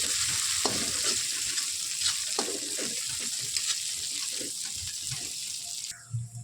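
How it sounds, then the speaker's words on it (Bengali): Spice paste for a Kolkata-style beef curry frying in hot oil with a steady, close sizzle and hiss, punctuated by scraping stir strokes, and a brief clatter near the end. "এইবার কিন্তু ভালোভাবে মশলাটাকে তেলের কষে নিতে হবে যতক্ষণ না মশলা থেকে তেলটা ছেড়ে আসে"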